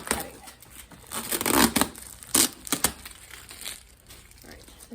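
Packing tape is torn and crinkled off an orchid shipping box in quick, rough bursts of ripping and rustling cardboard, close and loud, with a voice speaking at times.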